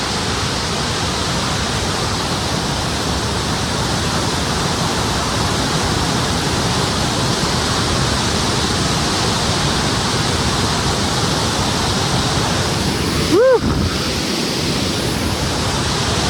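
Small mountain stream of water near Lachung in Sikkim, rushing steadily and loudly as a dense broadband wash throughout, with a brief thin whistle-like chirp near the end.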